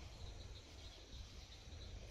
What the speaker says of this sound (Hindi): पर ये सुनो, मेंढक, कीड़े